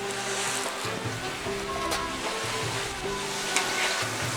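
Spiced chicken fries in a large pan of hot oil, a loud, close, steady sizzle with crackling bursts and a low bubbling hum running underneath throughout.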